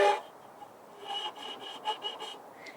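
A violin is bowed behind the bridge in an extended technique, giving faint, scratchy, raspy rubbing strokes in short irregular pulses with no clear pitch.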